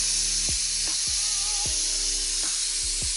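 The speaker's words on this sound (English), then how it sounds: "You can hear the steam coming out." Steady, loud hiss of steam venting from a Pressure Cooker XL, continuous throughout, with faint low thumps and clicks underneath.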